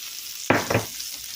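Mushrooms dropped into a pan of hot olive oil, a sudden close burst of sizzling and frying with a second hiss right after, then a soft steady crackle.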